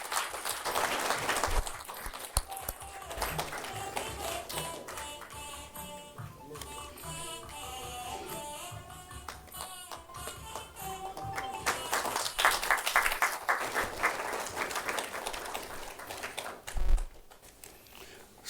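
Audience applause fills a packed auditorium at a Tamil book-launch honouring ceremony, dense clapping swelling and easing over time, with music or announcement sound mixed beneath.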